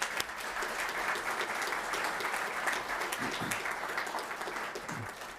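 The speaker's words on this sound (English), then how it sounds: "So how about a round of applause for all our staffs?" Legislators and guests in a state legislature chamber give a round of applause for staff, a continuous, fairly distant wash of clapping with no talk over it.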